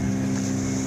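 A low motorboat running on the water at Sinquerim–Candolim in North Goa gives a continuous droning engine hum with wind and water rush, loud and close throughout this brief moment.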